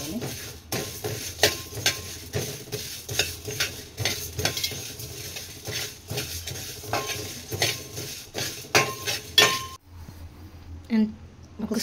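Cumin seeds dry-roasting in a pan for homemade chicken pickle, with repeated scraping and clinking of a spoon against the metal pan and soft sizzling, close and steady, stopping near the end; a voice speaks intermittently.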